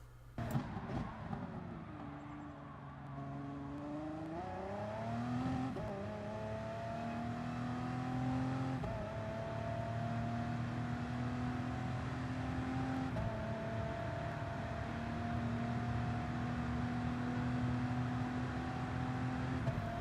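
Race car in Gran Turismo Sport on Circuit de la Sarthe accelerating hard, its engine note climbing steadily through several gear shifts in a continuous, loud whine with no talk.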